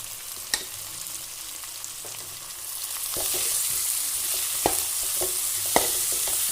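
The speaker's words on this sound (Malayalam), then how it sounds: "ഇതാ നമ്മൾ വേവിച്ച് വെച്ചിരിക്കുന്ന പയർ ഇട്ട് കൊടുക്കുവാണ്." Cooked green gram stirred into a mustard-seed tempering with sautéed onion for a thoran, giving a low, hissing fry that grows louder halfway through, with occasional sharp clicks of a spoon against the pan.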